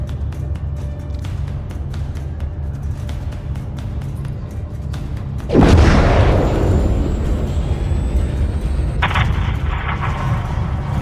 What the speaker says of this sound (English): have your man drop a missile on that hangar